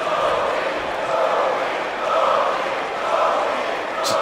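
A sold-out wrestling arena crowd in a WWE 2K game, roaring and cheering in a dense, steady wash of noise that swells slightly and holds loud throughout.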